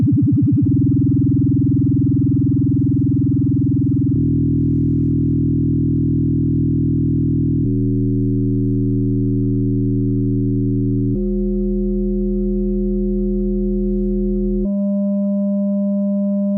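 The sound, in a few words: 200 Hz sine carrier with vibrato getting faster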